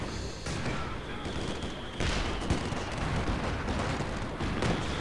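Artillery and gunfire in Company of Heroes 2 rumble as a dense, continuous barrage of booms and rattling shots, growing heavier partway through, with no voices.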